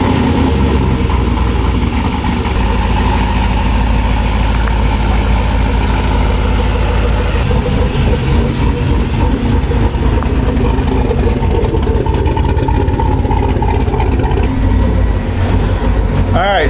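Engine running steadily on a car with hydro assist steering, a loud, constant low rumble and idle drone lasting the whole stretch, dense and close with no talk.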